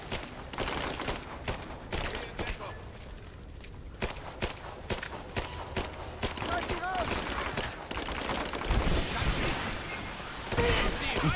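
Gunfire in the video game Rise of the Tomb Raider, scattered shots and bursts mixed with footsteps and game noise, with a player talking over the action.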